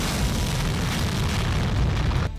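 A GPS-guided bomb dropped by an F-16 during a military exercise explodes in a loud, sustained rumbling blast that roars steadily for over two seconds before cutting off abruptly.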